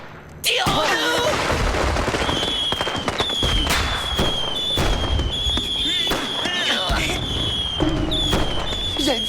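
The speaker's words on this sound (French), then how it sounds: "Eh, des feux d'artifice?" Fireworks exploding in rapid, irregular bursts of sharp cracks and booms, with whistling rockets, continuous and loud throughout, heard from nearby outdoors.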